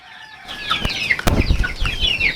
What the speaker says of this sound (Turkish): Arkadaşlar bakın terör estiren bu horozu yakaladım